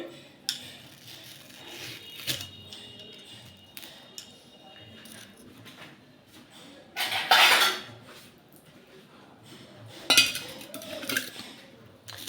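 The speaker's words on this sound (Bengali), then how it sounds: "চিকেনটা দেখো ভালো মতো আমি কষিয়ে নিচ্ছি" Chicken is stir-fried in a pan, with soft sizzling under intermittent metal spatula scrapes and clanks, including a couple of louder bursts.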